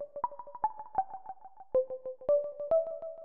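A simple plucky synth made in Ableton Live plays a quick arpeggio of short, bright notes in a steady rhythm, each pluck decaying fast, clean and alone.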